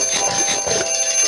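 An alarm clock rings loudly and continuously, a steady electronic tone pulsing in a fast repeating pattern with no voices over it.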